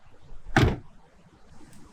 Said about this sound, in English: it takes so long to open and close this door